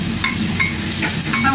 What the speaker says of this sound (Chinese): 爆香